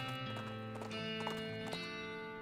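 Horse hooves clip-clop a few times in the western video game West of Loathing, soft and close over steady background music, with no clear whinny.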